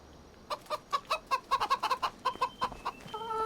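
Chickens cluck repeatedly in an outdoor enclosure, a steady run of short, sharp calls close by, with a longer drawn-out call rising at the end.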